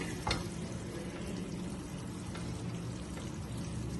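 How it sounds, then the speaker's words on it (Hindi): Mutton karahi sizzles steadily as it is roasted (bhunai) in a karahi, a constant crackling fry with faint stirring scrapes and no voices. "ये देखिए माशाल्लाह से जबरदस्ती हमारी कढ़ाई की जो है भुनाई हो रही है"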